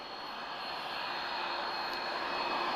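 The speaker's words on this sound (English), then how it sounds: "we've got a first generation A330 about to depart" A first-generation Airbus A330 of the Portuguese Air Force departs from an intersection at Lisbon Airport, its jet engines making a steady, broad roar that holds at a constant, fairly loud level throughout.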